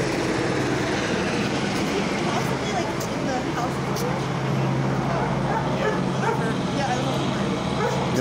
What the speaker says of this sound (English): Now there are some canine officers being deployed.